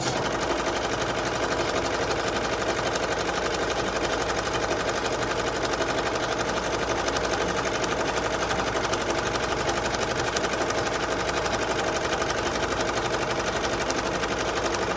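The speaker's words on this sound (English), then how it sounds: "Now it's going to start stitching down the satin stitch." An embroidery machine stitches a satin stitch on a long sleeve shirt, giving a fast, even, continuous mechanical chatter at a steady moderate level throughout.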